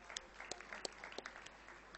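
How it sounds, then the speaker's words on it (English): Audience at a national conference of chartered accountancy students in 2022 applauding the paper presenters, a sustained patter of many hands clapping at moderate distance with a few sharper individual claps standing out, no talking. "So a very big round of applause for all the paper presenters."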